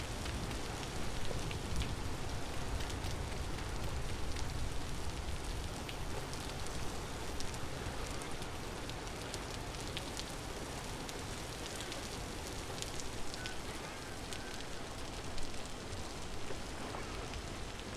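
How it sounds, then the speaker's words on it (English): Steady rain pours down in the survival game Vintage Story, a dense, even hiss of drops that runs the whole time, loud and close with no voices over it. "And it's raining."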